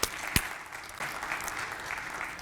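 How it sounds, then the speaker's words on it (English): A conference audience at a summit applauds a panel: one sharp clap first, then a steady, full burst of clapping from many hands that carries on to the end. "Can we just give them a round of applause?"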